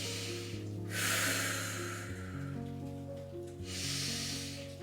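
Slow, deep breaths during a yoga hip-mobilising flow: two long, airy exhales with a soft hiss, each lasting about a second, heard close and fairly quiet over a low steady hum.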